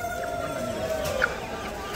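Chickens at a village market in Bangladesh cluck softly under a steady crowd murmur, with one brief sharper squawk partway through.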